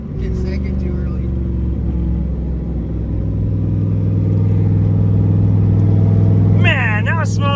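A Ford Mustang with a T5 transmission and a slipping clutch accelerates hard, giving a loud sustained engine drone that rises steadily in pitch, heard from inside the car with voices talking over it.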